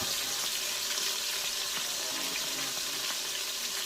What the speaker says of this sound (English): They have a little space in between so they can fry up.